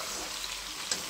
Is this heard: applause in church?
no